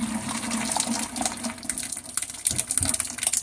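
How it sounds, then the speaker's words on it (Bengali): Curdled, spoiled milk, about one to one and a half kilograms, pours from a container through a strainer set over a kitchen sink, a continuous gushing, splashing water-like flow with uneven surges. "আর আমি এবারে এর মধ্যে এই ফেটে যাওয়া দুধটাকে ঢেলে দিব।"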